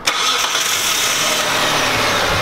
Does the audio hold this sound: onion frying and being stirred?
no